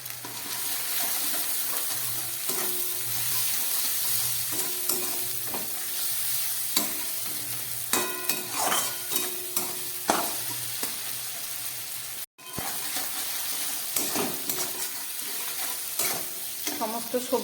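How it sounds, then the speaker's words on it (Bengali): Vegetables for paneer malai curry fry in a pan with a dense, constant sizzle, punctuated by clinks and scrapes from a spatula and one brief dropout midway. "সমস্ত সবজিগুলো আমার ভাজা হয়ে গেছে"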